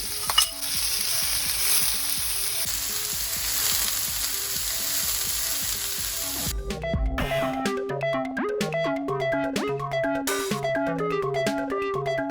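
Sliced onions sizzle and fry steadily in a pan for biryani, a bright hiss with stirring scrapes, then clinking metallic stirring strokes repeat rhythmically in the second half.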